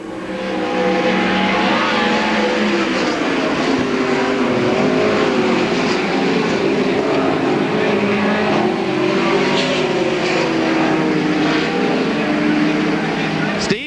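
Midget race cars roar around the track at the 1990 Belleville Midget Nationals, a dense, continuous engine howl with shifting pitch as the pack runs nose to tail, loud throughout beneath a race announcer's commentary.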